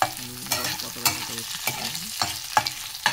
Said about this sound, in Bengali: দিয়ে একটু নেড়ে দিয়ে তাতে আলুগুলোকে হালকা হালকা করে ভেজে নেবো।